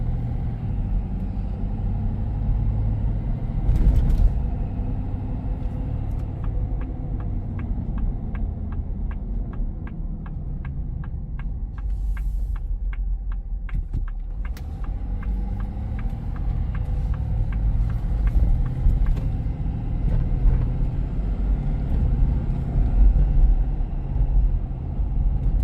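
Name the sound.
2025 Ford F-250 Lariat truck driving on bumpy road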